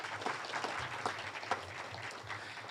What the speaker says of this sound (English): I think that deserves a round of applause all by itself